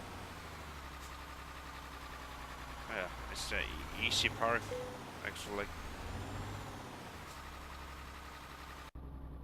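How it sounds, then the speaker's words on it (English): A low, steady truck engine idle in Euro Truck Simulator 2 rumbles throughout while someone talks over it at moderate volume. "Don't like the sound in this engine."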